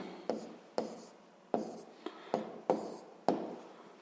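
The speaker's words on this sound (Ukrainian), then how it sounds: "проводимо дві лінії" A pen is drawn across paper to rule lines, making a series of about seven short, crisp scratching strokes, close and fairly quiet, with no talking.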